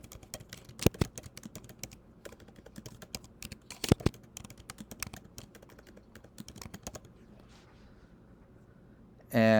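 Someone types on a computer keyboard in quick, irregular clicks, close and fairly quiet, with a couple of sharper key strikes before the typing fades near the end.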